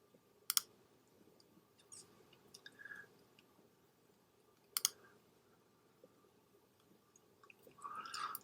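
A computer mouse gives a few faint, sharp clicks spread apart in a quiet room, with light desk handling noises between them and no talk.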